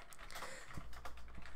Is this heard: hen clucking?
no